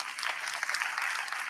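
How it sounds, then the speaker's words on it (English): Audience applause for the panelists at the closing plenary of a conference, a dense, even wash of clapping at moderate volume with no pauses. "Let's give them another round of applause, please"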